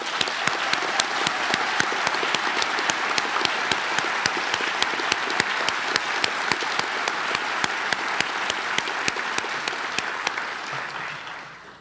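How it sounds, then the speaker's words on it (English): Sustained audience applause at a school graduation ceremony, steady dense clapping filling the hall for about ten seconds before tapering off at the end. "Can we offer all of them a round of applause?"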